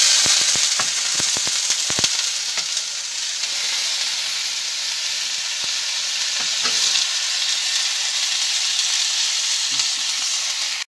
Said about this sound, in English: we're going to cook the meat. So we're gonna put a little bit of olive oil.